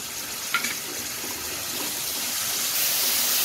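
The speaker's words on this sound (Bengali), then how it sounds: "একটু ভেজে নেব, যাতে আদা রসুনের কাঁচা গন্ধটা চলে যায়।" Ginger-garlic paste and green chili paste fry in a pan for a chili-spiced chicken bharta, giving a steady broadband sizzle that thickens toward the end, with a couple of faint clinks early on and no talking.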